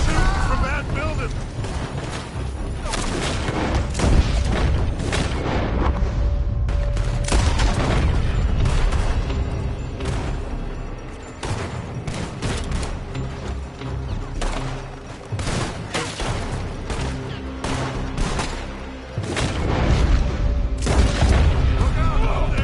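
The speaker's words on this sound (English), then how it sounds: "They're shooting from that building." Rapid gunfire and heavy booms from a shootout in the video game Red Dead Redemption 2, loud and dense throughout with repeated bursts and blasts, while voices shout over the din.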